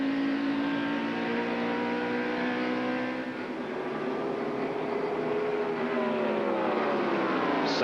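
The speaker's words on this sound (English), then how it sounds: "The number 4 car of Rick Wilson going very slow through the backstretch." NASCAR Winston Cup race cars at the 1989 Autoworks 500, a loud sustained engine drone with a passing pitch sweep and a brief dip midway, steady and close with no talk.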